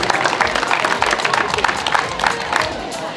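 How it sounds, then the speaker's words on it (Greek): Crowd applause and cheering for the winning woman at a 2024 Greek para athletics meet, a steady dense clapping wash that holds for the whole span at close range. "Χειροκρότημα για την κυρία Τσούκα, νικήτρια."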